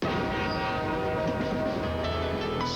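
A train rolls past with a continuous loud rumble, and its horn sounds in sustained tones near the end, with no voices.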